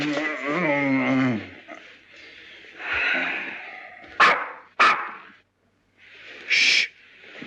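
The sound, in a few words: man imitating a dog barking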